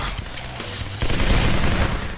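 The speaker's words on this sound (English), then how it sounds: "So we're getting shot at" Gunfire in a werewolf shooter video game erupts as a dense, loud burst of rapid shots after a second of rumbling background, a sustained fusillade up close with no talking.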